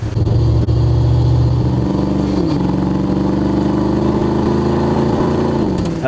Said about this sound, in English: We also did a dual exhaust system on this one. Gives it a really nice sound.